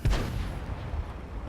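A tank gun fires once in World of Tanks, a loud booming shot right at the start that rolls away into a fading low rumble.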